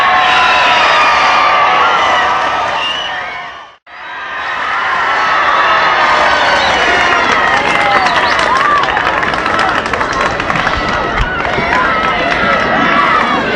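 A dense Fort Worth crowd claps and cheers for President Kennedy in 1963, a loud sustained roar of applause that briefly drops out, then swells back with shouts and whistles.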